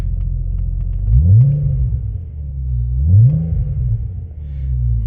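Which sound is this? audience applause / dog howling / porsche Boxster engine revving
porsche Boxster engine revving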